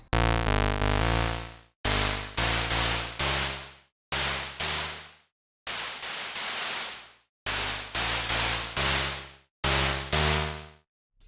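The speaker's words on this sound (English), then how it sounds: "the carrier mix knob lets you introduce white noise to the signal." A Moog Spectravox analog spectral processor blends white noise into its carrier: a series of short, loud synth bursts, some pitched and buzzy, one almost pure hissing noise, each separated by brief silences.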